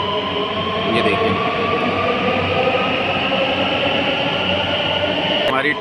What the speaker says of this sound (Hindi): हमारी ट्रेन आ गई।